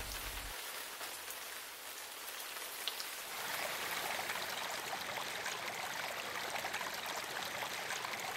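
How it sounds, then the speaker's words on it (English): Heavy lashing rain pours down in a river habitat of breeding terns, a dense, constant hiss of drops beating on surfaces that swells slightly louder midway and continues steadily, close and alone without voices. "The lashing rains,"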